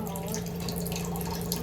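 Curd poured into onion pachadi, a steady liquid pouring and splashing sound heard close, continuous for a brief moment with no talking over it.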